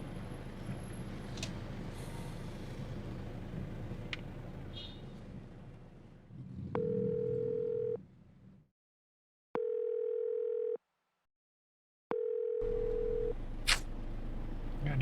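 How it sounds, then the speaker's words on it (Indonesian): A telephone call is dialed, then rings out unanswered: after some muffled background noise, three long, evenly spaced ringback tones sound, each separated by a silent gap. "Saya harus telepon balik orang yang menghubungi saya."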